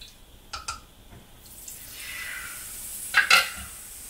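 Tempura and shiso leaf going into hot oil, a hissing sizzle that swells and holds after a few light clinks, with short sharp crackles near the end; no voices.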